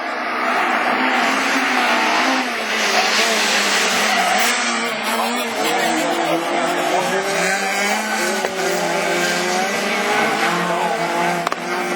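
At the 2013 French rallycross championship at Lessay, division 4, a race car roars through its joker lap with a loud continuous engine drone and tire noise, heard under excited race commentary.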